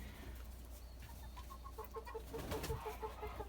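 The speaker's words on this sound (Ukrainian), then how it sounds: "Лишився ще в нас ось такий наш півень класний, гарний." A rooster makes repeated rhythmic clucking calls at moderate distance over a faint, steady background hum.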